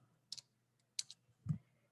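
A few sharp key clicks from a computer keyboard as an email ID is typed, three short bursts spaced about half a second apart, close and fairly quiet, with no talking.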